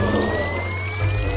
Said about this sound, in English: Let's pour it in the face mask maker machine.